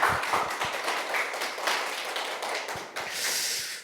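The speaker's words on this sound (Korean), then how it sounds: "우리 그런 마음에서 박수 한번 올려드릴까요?" A church congregation claps during a Sunday worship service, a dense, steady patter of many hands filling the room for a few seconds before tapering off.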